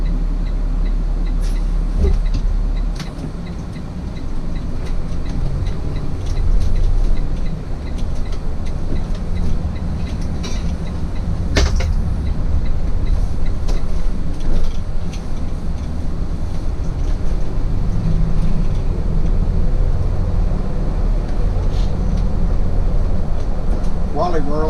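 Steady low rumble and road noise fill the inside of an Integra Coach bus cruising smoothly, a continuous hum with occasional small rattles and bumps while someone talks over it.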